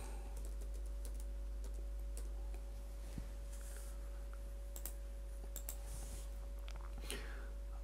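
Typing on a computer keyboard while entering a company name into a website form, with soft scattered key clicks over a steady low electrical hum, quiet and close.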